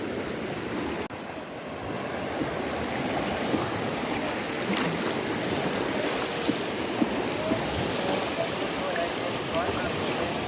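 A flooded river in Arunachal rushes along in a steady, loud roar of churning water, mixed with wind buffeting the microphone, and continues without a break for ten seconds.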